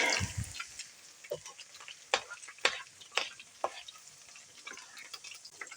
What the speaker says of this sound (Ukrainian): і смажимо дирунчики